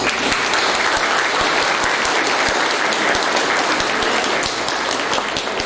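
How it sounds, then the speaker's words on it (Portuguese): A church congregation at a reinauguration service applauds to welcome a man called up front, loud, dense clapping from many hands with a few sharp individual claps standing out, sustained throughout. "Recebam ele com uma salva de palmas"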